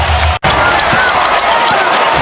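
Basketball arena crowd roaring as the Knicks retake the lead after a one-handed slam, a loud, dense wash of cheering and noise, briefly cut by a short dropout.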